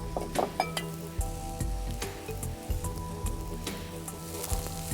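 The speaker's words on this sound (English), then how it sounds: "I let this simmer, actually sizzle more than simmer." Steady close sizzling of butternut squash frying in a pan, with occasional stirring clatter and soft crackles throughout, no voices.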